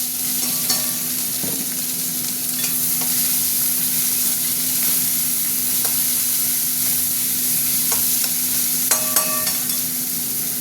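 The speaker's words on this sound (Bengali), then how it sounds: "গরম ওটা, এবার পেঁয়াজগুলো দিয়ে দিই।" Onions frying in hot oil with dried chillies and bay leaf, a constant dense sizzle close up, with occasional light taps of a utensil and a low steady hum underneath.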